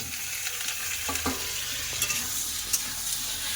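Potato and cauliflower fry with onions in a pan, giving off a constant close sizzle with occasional light stirring scrapes and no speech.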